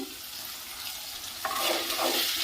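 Kodai chilies sautéing in a pan for thokku, a steady soft sizzle with occasional stirring scrapes that grows louder and brighter partway through, close up with no talking.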